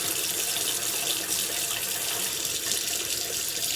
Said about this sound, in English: make sure you add water accordingly to get the lather the way you want